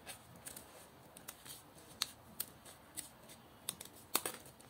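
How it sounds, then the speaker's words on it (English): Scissors snipping through paper while cutting out a window flower, a series of short, crisp snips scattered irregularly at close range, fairly faint and with no talking. "get out your scissors. We are going to cut this."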